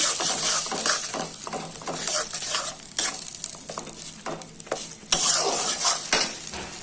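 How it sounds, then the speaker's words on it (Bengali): Egg curry masala is sautéed in a pan over a medium flame: loud, close, rhythmic scraping strokes of a spatula over a constant crackling sizzle, with no speech. "আমি এখন ভালো করে এটাকে কষিয়ে নেব।"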